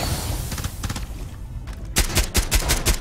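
Rapid gunfire in Rainbow Six Siege, bursts of automatic shots cracking in quick succession with dull thuds, growing louder and denser in the second half.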